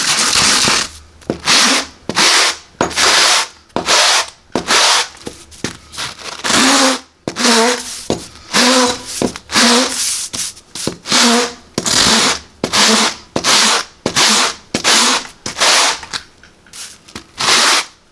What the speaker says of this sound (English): drawing this over the sandpaper